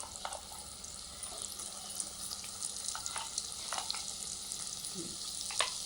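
Ginger garlic paste frying in hot oil left over from cooking prawns, a steady soft sizzle with occasional faint stirring clinks, close and continuous with no voices.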